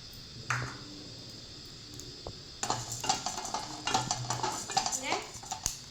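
Coriander seeds dry-roasting in a pan for a horse gram powder rice dish, with scattered clinks and scraping stirs growing busier and louder partway through, close by and with no talking.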